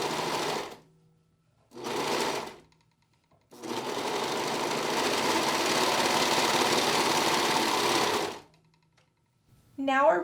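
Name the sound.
sewing machine stitching knit fabric shoulder seams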